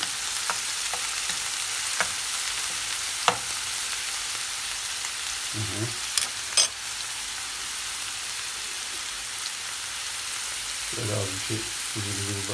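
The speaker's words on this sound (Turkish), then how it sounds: "her zaman yaptığınız gibi çembeleşinceye kadar biraz kavurun" Kadınbudu köfte mixture sautés in a pan with a steady, even sizzle throughout, broken by a few brief stirring scrapes and clinks.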